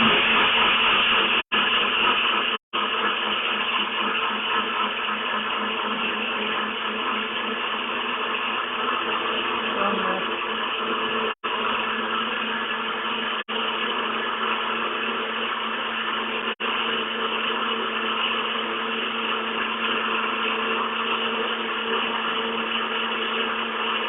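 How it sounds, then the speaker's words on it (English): A NutriBullet blender runs steadily and loudly for the whole stretch, a constant dense motor whine with a few brief dropouts and a slight shift in pitch partway through, with no talking. "I'm going to put this on the blender."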